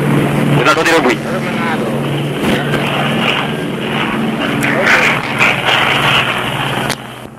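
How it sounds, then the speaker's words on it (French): An Air Haïti airplane takes off from an airport in Haiti, its engine roar steady and moderately distant beneath someone speaking continuously throughout. "les trois roues se sont détachés du sol, l'avion de Air Haïti est parti"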